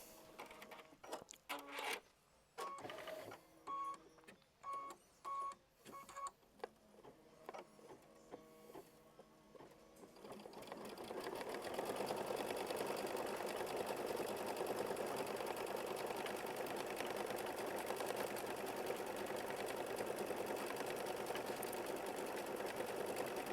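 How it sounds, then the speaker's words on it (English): A computerized quilting machine stitching around a flower bud on a quilt block: first a few short stop-start whirring runs, then a long steady mechanical hum of continuous stitching, fairly faint. "it's going to stitch all around the flower bud"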